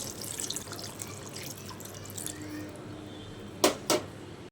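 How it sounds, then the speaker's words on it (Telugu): A glass of water is poured into simmering chicken curry seasoned with garam masala, giving two short, splashy pours close together near the end after a stretch of quiet kitchen background. "ఇప్పుడు గ్లాస్ ఆఫ్ వాటర్ వేసుకోవాలి."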